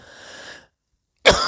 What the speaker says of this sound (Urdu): سوری کھانسی لگی ہوئی ہے